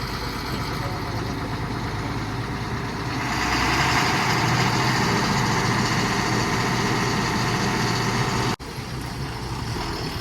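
Tractor engine idling nearby on a farm during maize harvest, a steady low rumbling drone that grows slightly louder partway through and continues with a brief dropout near the end.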